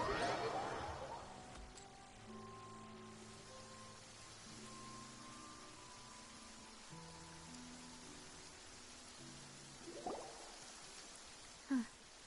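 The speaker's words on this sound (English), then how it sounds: "It's been raining non-stop for a few days now." Rain falls steadily in the Genshin Impact world of Fontaine, a soft constant patter with a few louder splashes and knocks near the end, heard without talk.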